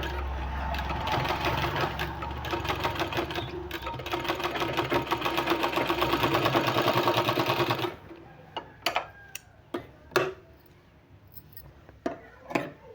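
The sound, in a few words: sewing machine stitching a sleeve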